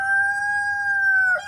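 A rooster in a backyard flock crows once, a clear, sustained call held for over a second before breaking off at the end, near and loud with nothing else around it.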